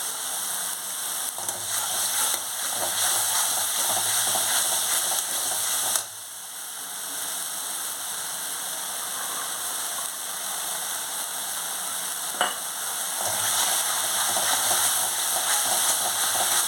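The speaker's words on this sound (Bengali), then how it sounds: "মশলাটা ভালো করে কষতে হবে" Spice paste mixed with cashew paste sautéing in a pan for a Bengali prawn-stuffed pointed gourd dish, a soft continuous sizzle with a couple of brief stirring knocks, close and fairly quiet, no talking.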